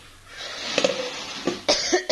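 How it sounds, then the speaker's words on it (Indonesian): A person coughs several times in quick, harsh bursts, close and fairly loud, with short pauses between them and no talking. "Batuk lagi."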